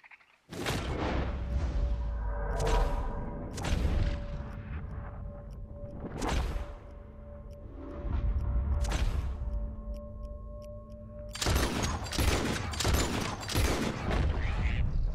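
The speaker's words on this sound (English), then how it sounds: "pick out some targets and shoot them" Gunfire from Red Dead Redemption 2 while hunting animals at Copperhead Landing: about eight loud, sharp shots spaced a second or two apart, then a rapid cluster of shots near the end, with a steady tonal hum beneath and no talking.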